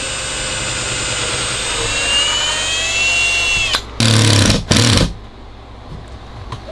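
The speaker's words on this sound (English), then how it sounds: "And pre-drill these holes." A whining power drill spins down from a steady high drone, then two short bursts of pre-drilling into wood framing follow close by before it falls quiet.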